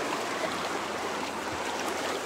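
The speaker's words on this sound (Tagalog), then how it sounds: "Gusto nyo ba yung tunog ng ilog" A river flows steadily nearby, a constant broadband wash of running water with no speech.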